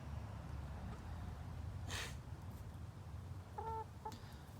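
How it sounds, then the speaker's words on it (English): Backyard chickens on a small farm, a soft cluck and a couple of short rising calls over faint ambient hum, fairly quiet and without talking. "And then there's chicken number 2."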